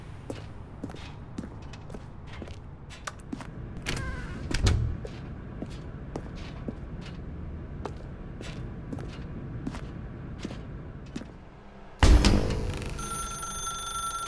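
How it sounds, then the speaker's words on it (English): In The Stanley Parable's bucket apartment ending, a telephone rings repeatedly in short regular bursts, faint and a little distant, with soft footsteps between rings and a louder door-like thud near the end. "Now pick up the phone, said the bucket."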